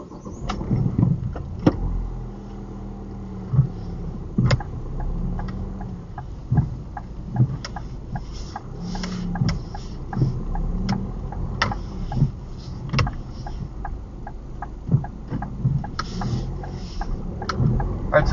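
A car engine hums steadily at low pitch throughout, with occasional ticks and bumps from the cabin as the vehicle drives along a UK driving test route in Atherton.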